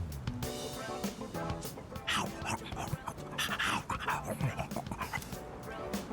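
A stray dog in the video game Persona 3 Reload pants and whimpers weakly in short bursts, with a soft yip, while a character talks over the scene and game music plays.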